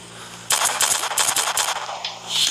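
Rapid automatic gunfire from the video game Sierra 7 rattles off in a tight, loud burst of shots lasting about two seconds over a steady background hum.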